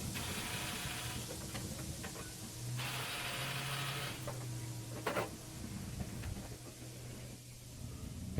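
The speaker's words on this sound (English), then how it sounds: "We take out the other set of screws." Screws are being removed from a custom-built PC case being scrapped for e-waste, heard as soft ratcheting clicks and small metallic scrapes and taps, fairly quiet and uneven over a constant background hiss.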